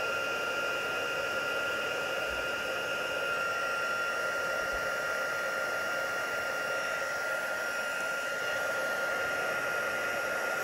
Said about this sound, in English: I've got my heat tool here. I'm going to make some noise.